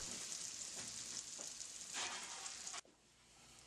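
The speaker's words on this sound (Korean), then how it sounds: "두부를 먹기 좋게 썰어 프라이팬에 기름을 넣고 부쳐 먹는 것도 별미." Sliced tofu frying in oil in a frying pan, a steady close sizzle and crackle that runs continuously before dropping off abruptly near the end.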